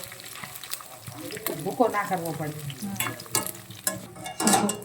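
Edible gum (gond) frying in ghee in a pan alongside cashews and almonds, giving a crackling sizzle with scraping stirs. Someone speaks briefly over the cooking.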